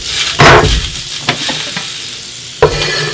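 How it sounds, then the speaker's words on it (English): Butter sizzles in a hot pan of leftover grease, a steady crackling hiss broken by a few louder spits and scraping stirs, close and with no voices. "We're going to take a little bit of butter and put that into the pan."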